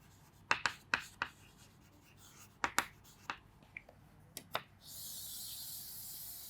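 Someone writes on a board: a run of sharp, close taps and short scratches in an uneven rhythm, followed by a steady soft hiss toward the end, with no talking.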